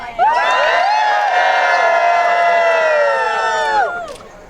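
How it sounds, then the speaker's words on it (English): A crowd cheers loudly for Tanya at a charity walk for a GIST cure, many voices whooping and shouting together in one sustained burst close by that fades at the end. "One more cheer for the woman who brought us all together, for Tanya."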